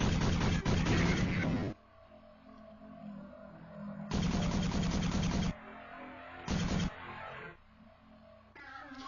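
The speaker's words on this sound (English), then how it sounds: "you're shooting 3 bullets at once" Spread-shot gunfire from a gun firing three bullets at once in the video game Bioerosion, loud dense bursts of rapid shots in several blocks separated by quieter game background.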